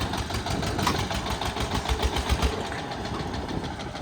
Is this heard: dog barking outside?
no